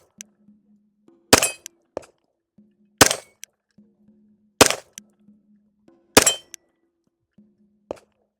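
Five evenly spaced pistol shots from a Glock 45, each a sharp crack with a ringing clang from a hanging steel target, a faint metallic tick after each, outdoors at a range.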